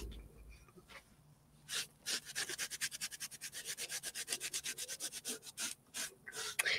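Rubbing through a detailed stencil on a brocante shadow box craft piece, a steady run of quick, even back-and-forth scrubbing strokes, close and soft, with no talk over it.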